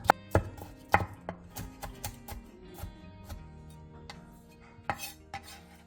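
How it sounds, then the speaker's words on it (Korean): A knife chops green onion, Cheongyang chili and red chili on a cutting board with rapid, close, crisp knocks. A few of the strikes are heavier, and the chopping is heard on its own without any talk. "대파 3분의 1개, 청양고추 1개, 홍고추 2분의 1개를 길게 반으로 가른 뒤 쫑쫑 썰어주세요."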